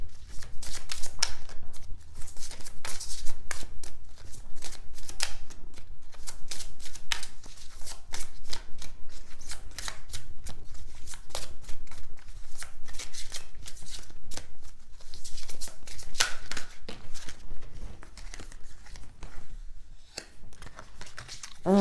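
A deck of tarot cards is shuffled by hand up close, a dense run of rapid riffling snaps and papery flutters that continues with brief pauses.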